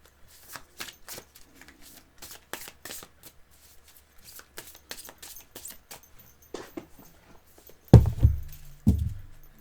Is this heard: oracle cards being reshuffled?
yes